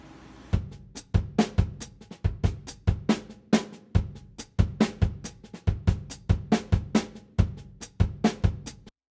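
A second drum part from a mellow rock tune, played alone: a steady, close groove of punchy kick and snare hits with crisp cymbal strikes, repeating evenly throughout with no voices.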